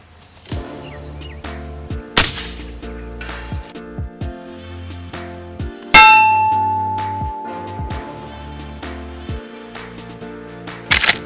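Rifle rounds from a Marlin 336 lever-action ringing off steel targets on a range, several sharp metallic clangs and dings at irregular intervals, each with a short ringing decay.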